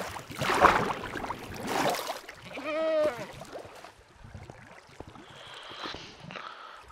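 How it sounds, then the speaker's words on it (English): Sheep bleat in a video game, Barosa's Curse, a few clear calls near the middle standing out over an ambient game soundscape with scattered soft noises. "there's sheep somewhere around here, and I'm not sure where."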